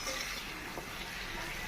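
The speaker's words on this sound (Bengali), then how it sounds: "চালতাটা হালকা ভাজা" Chalta (elephant apple) fries lightly with sugar in a pan, making a faint, steady sizzle throughout, with a brief soft stir midway and a sharper utensil knock at the very end.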